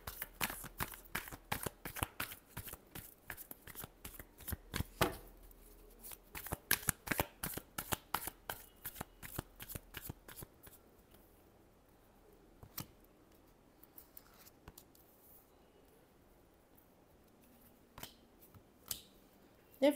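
Tarot cards being shuffled by hand, a rapid run of crisp riffling flutters for about ten seconds, close and clear, then quieter scattered card handling with occasional taps.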